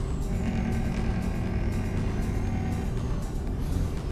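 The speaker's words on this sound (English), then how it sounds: "I do like the sound of the Jake brakes in this." A truck's Jake brake in a trucking video game on tight, winding roads gives a steady low rumbling roar that sits close and moderately loud throughout.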